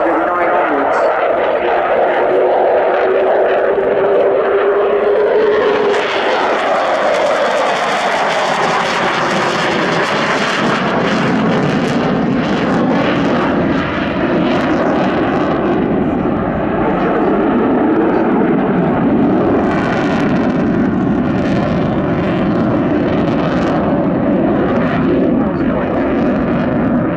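A Sukhoi Su-27 Flanker jet performs a sunset flying display at RIAT 2018, its engine roar loud and sustained throughout, swelling and shifting in pitch as it passes, with talk running over it.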